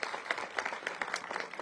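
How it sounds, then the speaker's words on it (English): Audience at an elementary school groundbreaking ceremony applauds in a light, faint patter of many hands clapping irregularly throughout. "let's give them a round of applause"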